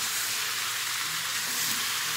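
Chicken and pork adobo sizzles in a pan as it is stirred, giving a close, steady frying hiss with faint scraping movement underneath and no talking.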